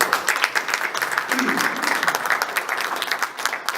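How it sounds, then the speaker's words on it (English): A room full of people at a press conference applauds the sheriff and state's attorney, with steady, dense clapping sustained throughout the short stretch. "I'd like at this time to give both Sheriff High and our state's attorney a round of applause for their work"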